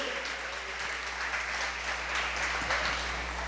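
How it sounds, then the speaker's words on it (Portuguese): Church congregation applauding together at an evangelical Bible study, a steady dense wash of many hands clapping throughout, fairly loud and continuous with no pauses. "dar uma salva de palmas bem forte para esse seu Jesus"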